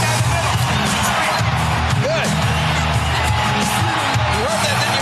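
Loud arena crowd at a 1999 WWE Raw show roaring and cheering throughout D-Generation X's entrance, with whoops and shouts rising over a thick, continuous wall of noise.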